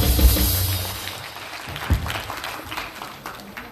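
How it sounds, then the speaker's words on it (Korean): An audience claps in a burst of applause welcoming a speaker to the stage at a Korean church gathering, fairly loud and sustained, gradually thinning out over a few seconds. "힘차게 박수로 환영해 주십시오"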